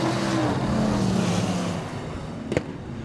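Modified race cars racing at Greenstone Park Speedway, a loud, dense engine roar whose pitch sweeps past and then fades, with a brief sharp knock near the end.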